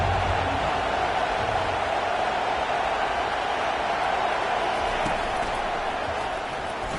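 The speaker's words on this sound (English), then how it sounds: "This crowd bringing an ear-splitting welcome to their visitors." A loud stadium crowd at a college football game roars in a continuous, dense wall of noise, sustained throughout without breaks.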